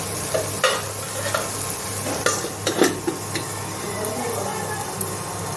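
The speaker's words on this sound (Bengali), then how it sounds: "ভালোভাবে মশলাটা কষা দেবো।" Spice paste for a mushroom and potato curry sautéed in a pan, a steady sizzle with repeated scraping stirs of the spoon against the pan.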